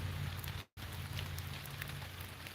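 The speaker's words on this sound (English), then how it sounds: "Some rain hit them leaves up there and caused just the right movement." Rain pattering on tall treetop leaves in a squirrel-hunting video game, a steady soft patter with faint low hum beneath and a brief dropout.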